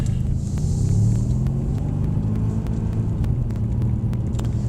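A Mercedes-AMG C63S cruises in the left lane around the Mercedes-Benz World race track, its engine a steady, close, deep rumble with light ticking on top and no voices.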